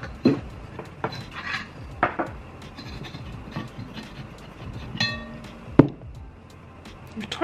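Heavy Skeppshult cast iron pans handled in a kitchen give sharp metallic clanks and clinks at irregular intervals, some ringing briefly, against quiet room tone.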